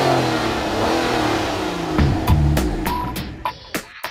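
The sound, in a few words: Aston Martin DBS Volante 6-litre V12 engine revving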